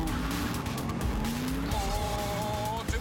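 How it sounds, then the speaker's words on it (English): Racing car launching from a countdown start with wheel spin: loud, steady engine roar with rising whine and squealing tires, building as the revs climb and shifting pitch near the end. "Wheel spin, but then I launch this car."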